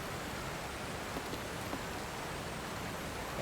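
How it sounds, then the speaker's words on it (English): Waterfall rushing in a Nintendo video game, a steady, dense hiss of falling water filling the scene evenly, heard from close behind the falls without other distinct sounds. "We are now behind this waterfall."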